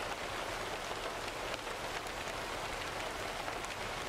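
Steady rain hissing across the whole clip in the American Truck Simulator video game, a dense, even wash of falling drops with no talking.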